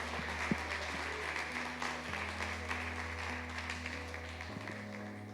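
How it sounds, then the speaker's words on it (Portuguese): A church congregation claps continuously through a worship service, the dense, steady applause layered over sustained keyboard chords that shift pitch partway through. "Aplauda o Senhor,"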